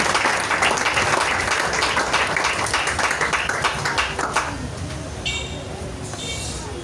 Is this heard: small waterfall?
no